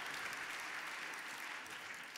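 Audience applause fills a New Year's wishes ceremony hall in Antibes, a steady dense clapping from a large crowd that stays loud throughout before easing slightly at the end.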